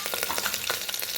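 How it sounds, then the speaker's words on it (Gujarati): Stuffed eggplant curry tempering in hot oil, a brief burst of dense crackling sizzle with quick popping spatters. "ચલો હવે આપણે શાક વઘારીએ"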